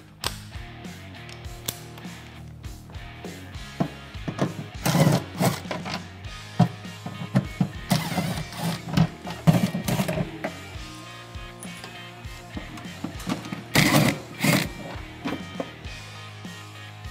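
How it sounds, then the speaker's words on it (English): Bolts being removed from the clutch cover of a Polaris Ranger with an 8 mm tool, heard as scattered close clicks, ratcheting and metallic taps in irregular bursts with quiet gaps between them. "we're gonna remove all of the bolts out of the clutch cover"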